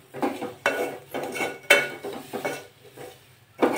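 Turmeric, garam masala and ground coriander and cumin are stirred and sautéed in a pan for a quick amti, heard as a rhythmic series of close spatula scrapes and metallic clinks against the pan over a faint sizzle, with no talk.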